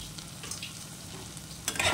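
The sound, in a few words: stirring fried spice masala in a pan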